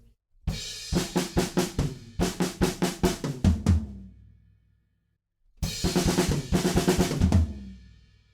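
A drum kit plays a snappy fill of rapid snare and tom hits, repeated twice with ringing cymbal decay and a pause between.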